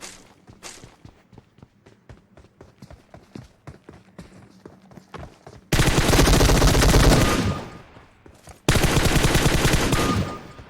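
M4 rifle firing in a PUBG-style shooter video game: footsteps first, then two long loud bursts of automatic fire with a short pause between them.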